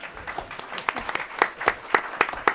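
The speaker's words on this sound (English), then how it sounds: "let's have a large round of applause" An audience at a United Nations policy event breaks into a short burst of applause, with scattered, uneven claps rising and falling at moderate volume.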